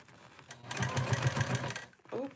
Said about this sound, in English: I'm just top stitching all the way around right